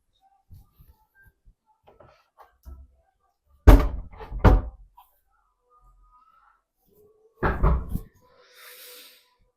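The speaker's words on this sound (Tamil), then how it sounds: "மா இப்பதானமா சொன்ன கதவை தட்ட." Someone knocks on a house door, two clusters of loud, close thumps several seconds apart with faint small noises in between.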